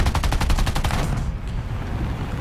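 Rapid tank gunfire in War Thunder ground realistic battle, a burst of fast repeated shots for the first second, then a steady rumbling battle din with no talking.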